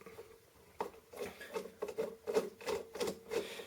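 A flathead screw being backed out of a Saiga 7.62x39 rifle receiver with a screwdriver: a series of short scraping, rasping turns in a steady rhythm, close and fairly quiet, with no voices.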